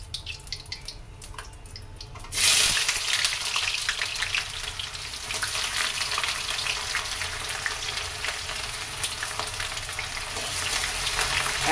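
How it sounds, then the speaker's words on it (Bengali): Onions tipped into hot oil with cardamom, cinnamon and dried red chilli for chicken curry set off a sudden loud sizzle that keeps frying steadily and close by, with no voices over it. "এই তেলে আমি পেঁয়াজটা প্রথমে দিয়ে দেবো।"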